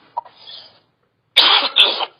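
Two short harsh coughs from a person with a lingering cough, close and loud, separated by a brief pause.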